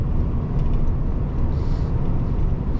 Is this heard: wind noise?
yes